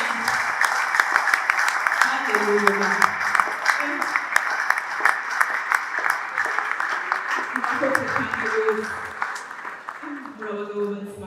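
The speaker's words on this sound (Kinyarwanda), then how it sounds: "Abagabo mukoma amashyi mwenyene haleluya" Men in a church congregation clap together in a dense, sustained round of applause during a women's celebration service. A voice speaks loudly over the clapping.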